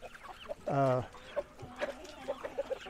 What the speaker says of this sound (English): we're going to be feeding the chickens